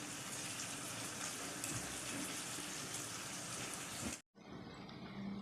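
Syrup pours over hot kunafa in a continuous, soft, wet gushing stream that runs for several seconds, then breaks off briefly and resumes.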